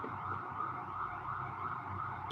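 Ambulance sirens wail steadily in the distance, a continuous tonal drone that fills the clip with no talk over it.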